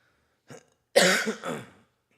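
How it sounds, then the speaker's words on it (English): A faint short rasp followed by one loud, harsh cough up close that trails off into a rough throat rattle. "This cough won't go away."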